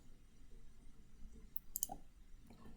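A single brief computer mouse click on the Finished button in Agrimaster accounting software during GST setup, faint and isolated against a quiet room with no talking.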